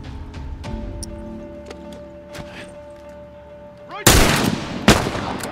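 Gunfire in The Last of Us Remastered on PS4: a few faint shots over a steady game tone, then a loud, dense burst of blasts and another sharp report near the end.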